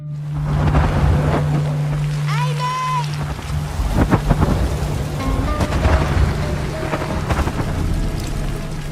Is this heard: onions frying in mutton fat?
no